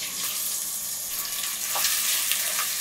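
About one and a half cups of chopped onion hit a pan of lightly fried whole spices for a chicken curry, bursting into a bright, crackling sizzle that swells a little louder partway through, close up and without any talking.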